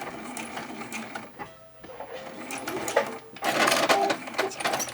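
Sewing machine stitching a seam on a fabric bin made from two fat quarters, running in close, steady bursts with a brief pause near the middle before a louder, faster run.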